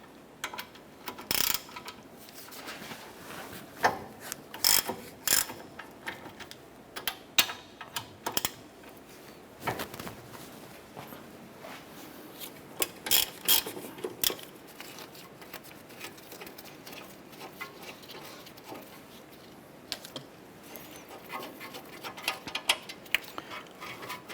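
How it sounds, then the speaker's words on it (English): A ratchet with a 17mm socket loosens the caliper bracket bolts on a 2008-2012 Honda Accord's front brakes, giving bursts of close, sharp clicking and metallic ticks with short pauses between strokes. "Using a 17mm socket, we're going to go ahead and remove our brake caliper bracket bolts."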